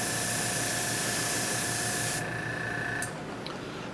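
An aerosol spray can lays a light coat of paint on an O scale model railroad water column, a steady close hiss that cuts off after about two seconds, followed by a quick short puff.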